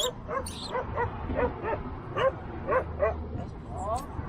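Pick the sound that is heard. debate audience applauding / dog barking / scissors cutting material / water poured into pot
dog barking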